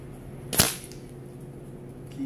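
A single sharp crack of a Kral Puncher Nish 5.5 mm air rifle firing a pellet at a 50-metre target, quick and snappy, followed by a short fading tail against a quiet background.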